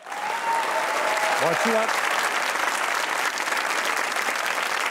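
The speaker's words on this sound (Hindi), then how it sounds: "अगर आप लोग भी दूसरों को खुश देखना चाहते हैं तो तालियां बजाइए।" Studio audience applause during a comedy talk show, dense and sustained clapping that stays loud throughout, with a brief spoken voice over it early on.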